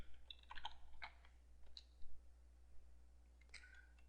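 Soft, quiet clicks of typing a search on a computer keyboard, a few scattered short bursts of keystrokes with pauses between them over a low steady hum.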